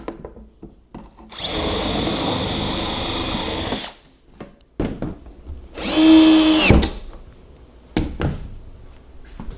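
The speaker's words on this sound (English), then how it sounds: "I'm just going to use a jig and drill the required holes" A power drill whirs in two loud bursts through a jig into white oak, the second rising in pitch, with quiet clatter and handling noises between.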